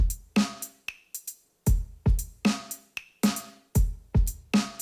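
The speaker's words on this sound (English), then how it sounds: "I run it through a Reverb, which is also by Softube." Drum kit with kick, snare and bright hi-hats in a steady groove, treated with Softube TSAR reverb on a normal-sized room setting, close and fairly quiet, with short room tails after each hit and no talking.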